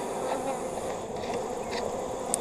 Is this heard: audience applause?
no